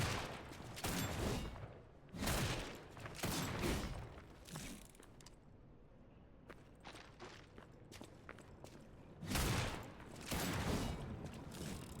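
Gun lance blasts from the Lies of P video game, loud broadband bursts in clusters near the start, around two to four seconds and again near nine to eleven seconds, with quieter mechanical clatter between.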